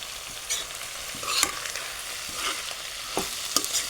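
Fenugreek leaf vegetable sautés in a hot pan, a soft continuous sizzle broken by a few sharp scrapes of a spatula stirring the greens, close and without speech.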